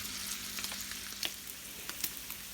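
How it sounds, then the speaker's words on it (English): Bacon frying in a pan, a continuous close crackling sizzle with scattered sharp pops and spits throughout. "One of the things I love about bacon is that it does not take long to cook."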